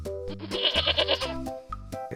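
Several goats bleat close together in an animated story, with quavering, nasal cries overlapping and trailing off, followed by one short final bleat.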